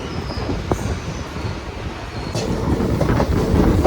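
A train on the Kollam to Aryankavu line rolls into Kundara station, a loud continuous rumble of wheels and carriages with a faint squeal and clatter building toward the end.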